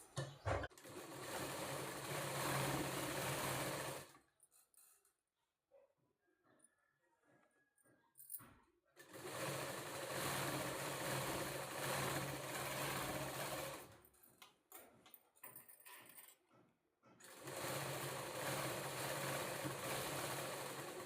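A sewing machine stitches along a fabric edge in rapid, steady mechanical bursts of several seconds each, separated by quiet pauses with soft handling sounds, close and alone.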